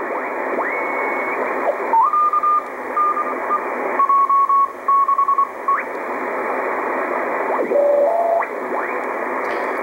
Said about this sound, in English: surely you'll find some Morse code or CW